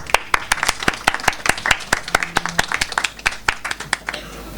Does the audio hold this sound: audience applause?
yes